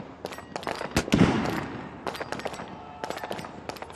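Sharp rifle reports ring out at a SWAT shooting challenge range in Al Rawaya, several crisp cracks spread unevenly over a few seconds, with a louder shot near the middle and fainter distant pops around it.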